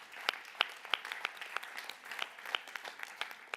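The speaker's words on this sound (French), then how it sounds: "on peut les applaudir" An audience applauds at a European education awards ceremony, a steady patter of many hands with sharper individual claps standing out, heard at moderate distance.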